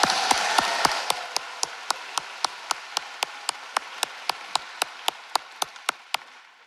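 Applause at an 8th grade graduation ceremony thins from a brief wash of clapping into a steady run of single sharp claps, evenly spaced and close, fading toward the end.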